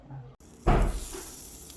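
A hair iron presses hair coated with a moisturizing heat protectant, giving a short soft sizzling hiss that swells after a brief click and fades gently, quiet and close.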